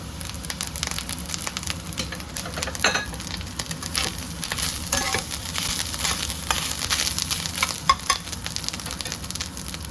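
Okra and grated coconut sizzle steadily in a hot pan while a spoon scrapes and stirs it in irregular strokes, close and moderately loud.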